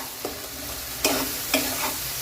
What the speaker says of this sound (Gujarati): પાણી નાખવાથી આપણા મસાલા બળતા નથી અને સરસ સારી રીતના એક રસ થઈ જાય છે અને સરસ શેકાઈ જાય છે